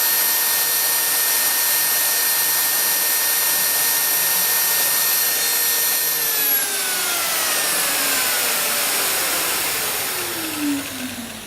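Shop vacuum running during assembly of an oak parquet panel: a loud, steady whine held close and alone, its pitch sliding downward after about six seconds as the motor changes load.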